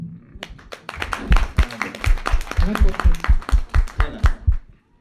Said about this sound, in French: Merci d'applaudir Moudou